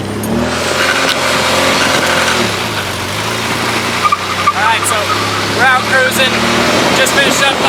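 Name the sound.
car engine while cruising in a drift project car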